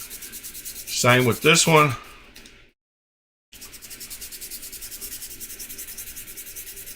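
Sandpaper rubs rhythmically across a surface in quick, even back-and-forth strokes. Someone talks at the start, then comes a short silent gap before the steady scratching resumes.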